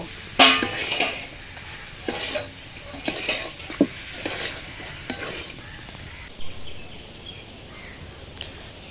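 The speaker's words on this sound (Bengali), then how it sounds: "সবগুলো মিশিয়ে তারপরে নামিয়ে নেব" Raw mango pickle, sour and spicy, is stirred in a pan with fried spices; a few sharp spoon scrapes and a light sizzle sound close by, then fade to near quiet.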